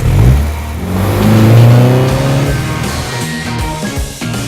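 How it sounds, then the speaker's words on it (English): A John Cooper Works Mini engine and tuned exhaust rev hard and loud up close, pitch climbing through a sustained run and then falling away, with no talk. "we did the exhaust on the new John Cooper Works Mini, we went through about 20, 25 prototype exhausts before we got the exact sound we were looking for"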